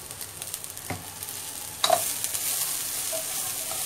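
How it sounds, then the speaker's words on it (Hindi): Crab curry masala roasting in ghee, with a spoon scraping and stirring through a soft, steady sizzle and a few sharper clinks and scrapes along the way. "जरा इसको अच्छे से खुशबू आने तक भुनेंगे और फिर पीसेंगे"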